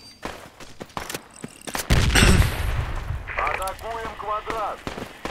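Gunfire crackles in the military shooter game Project Reality, with scattered shots and a heavy explosion-like burst followed by rumbling, while players talk over the noise.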